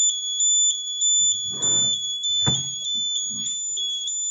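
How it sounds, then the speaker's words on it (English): Buzzer on a homemade LED light flasher circuit sounds a high, steady electronic tone pulsing on and off in a regular rhythm, close by, with faint handling clatter underneath. "alternating, and the buzzer also sound like this."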